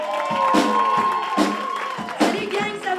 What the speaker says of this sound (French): Petit applaudissement, s'il vous plaît.